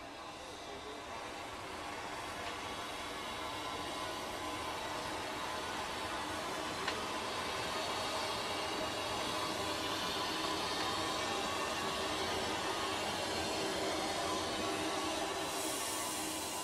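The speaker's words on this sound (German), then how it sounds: "Unsere 86er rollt für die Rückfahrt nach Heringsdorf wieder vor den Zug." Steam locomotive 86 1323 on the island of Usedom, running round its train for the return to Heringsdorf: a steady rolling rumble with hissing broadband noise throughout, continuous and fairly close.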